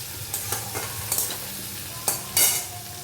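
Potatoes frying in a pan for niramish alur dum, a low steady sizzle punctuated by several sharp scraping stirs of the spoon, close and fairly loud.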